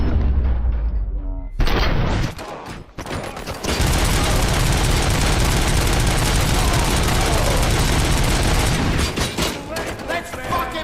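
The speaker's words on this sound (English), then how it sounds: "am I hearing gunshots?" Loud gunfire in the video game RoboCop: Rogue City, with dense rapid bursts and booming shots that are nearly continuous after a brief lull, sitting close and dominant in the mix.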